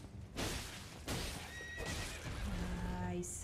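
A horse in the video game Elden Ring neighs and whinnies loudly amid game noise and broadband clatter, with a rising tonal call ending the short burst.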